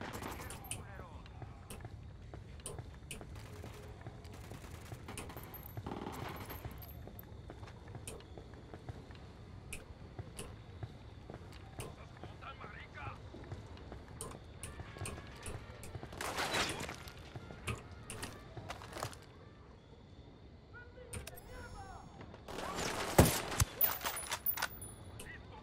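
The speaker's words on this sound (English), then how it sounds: "Opening fire." Gunfire in Ghost Recon Wildlands, a scattered volley of shots with heavier bursts near the middle and end, set in a low rumbling game soundscape with talking running throughout.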